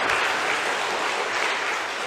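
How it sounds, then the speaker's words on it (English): Steady applause from a crowd, even and sustained throughout, with no voices standing out. "Round of applause here."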